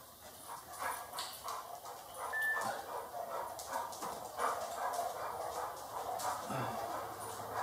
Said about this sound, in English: Same dog as last video. He's about 100 years old.